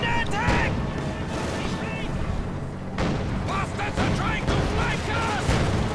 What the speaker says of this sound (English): Tanks unleashing a barrage.